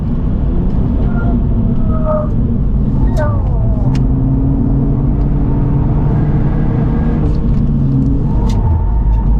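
A Lynk & Co 03+ driven hard on a racetrack, its engine droning loud and close from inside the car, shifting up through closely spaced gears, with people talking over it.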